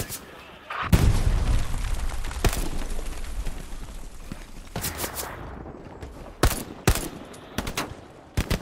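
Loud bursts of rifle and machine-gun fire in the World War II shooter Hell Let Loose, with sharp single shots and rattling volleys cutting in over a steady battlefield din.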